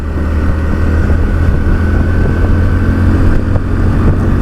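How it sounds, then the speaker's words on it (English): Hero Splendor Plus motorcycle engine running steadily and loud, a continuous low thrumming drone with no speech. "If I push this motorcycle a bit"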